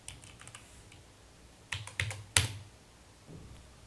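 Keys clicking on a computer keyboard as a password is typed on a Linux Mint desktop, a handful of quiet, close taps in a short irregular cluster with faint room tone between.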